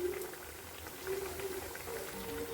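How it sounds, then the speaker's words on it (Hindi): Leftover roti pieces fry in hot oil, a continuous soft sizzling and bubbling at low level with no talking. "ये देखिए कितना अच्छा से फ्राई हो रहा है एकदम।"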